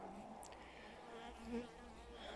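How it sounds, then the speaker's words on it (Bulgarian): Buckfast honeybees buzz in an apiary, a close, faint, continuous droning hum with a few louder passes of individual insects and no talk. "масово са такива жълти пчелички, не хапят"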